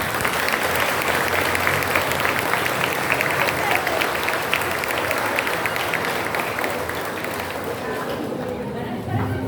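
A church congregation at a Sunday Ascension Mass claps loudly and steadily for its pastors, dense sustained applause filling the room for the full stretch before tapering slightly at the end.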